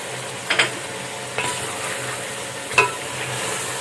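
Masala with tomato paste frying in a pan, a low steady sizzle broken by a few sharp scrapes and stirs of a spoon against the metal, close and alone.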